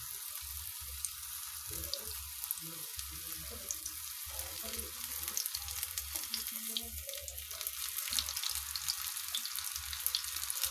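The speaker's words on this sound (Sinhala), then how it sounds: "දැන් මම තාච්චියකට තෙල් ටිකක් දාගෙන මේක බෙද ගන්නයි හදන්නේ." Onion rings frying in oil in a pan, a steady close sizzle with crackling bursts and popping throughout, no talking.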